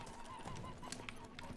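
In The Witcher 3: Blood and Wine, the horse Roach gallops with a steady, faint clip-clop of hooves over a continuous droning game background.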